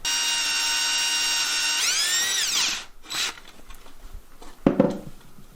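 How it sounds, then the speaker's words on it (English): A power drill whines steadily at high pitch, then winds down as it bites through a metal bottom door track, followed by a few clanks and scrapes. "This is the bottom track, is drill a hole in it for this door guide."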